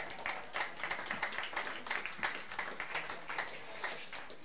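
Audience applause in a theatre hall, set off by the actors seated among the crowd: steady, dense clapping from many hands that holds for several seconds at a moderate level.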